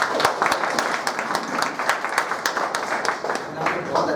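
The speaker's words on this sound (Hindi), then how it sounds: "सबसे पहले तो जाकिर साहब के लिए जोरदार तालियां बजाएंगे।" An audience claps for a speaker at a talk, with sharp individual claps standing out over a fairly sparse, moderately loud patter that keeps going throughout.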